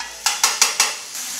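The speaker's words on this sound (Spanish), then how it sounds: "Vamos a dorar unos cuantos segundos." Garlic paste frying in hot oil in a preheated pan, a steady close sizzle broken by four evenly spaced stirring scrapes.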